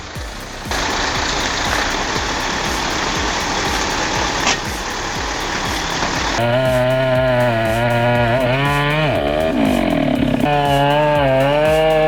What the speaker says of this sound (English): What a beautiful chainsaw sound.